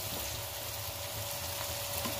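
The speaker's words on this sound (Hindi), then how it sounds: "पहले आप ये अच्छे से वेजिटेबल्स इसके साथ फ्राई हो जाएं, चिकन के साथ ही" Vegetables and chicken frying together in a pan, giving a steady, even sizzle with a faint hum and no voices.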